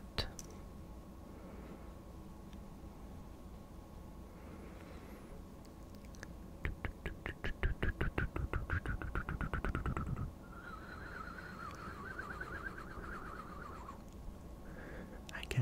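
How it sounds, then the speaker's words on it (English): Soft brushing of a makeup brush dusting rosy blush across the cheeks, close and intimate, in a quiet ASMR setting, with a dense burst of rapid bristle strokes in the middle and faint whispering around it. "I guess that's the sound of brushing, I don't know."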